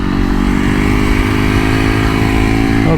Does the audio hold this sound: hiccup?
no